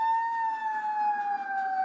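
Emergency sirens from fire trucks and ambulances at a Baltimore row-house fire wail in a steady, slowly falling tone, loud and close, with no speech over it.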